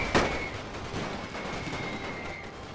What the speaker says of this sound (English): I didn't know they actually fired grenades.